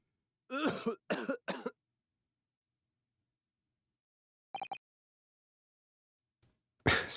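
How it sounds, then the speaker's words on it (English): A short burst of harsh coughing from a game character in The Great Ace Attorney, three quick coughs close together, then silence, a brief repeat of the coughs, and another cough starting at the end. "Is this cough just gonna loop over and over?"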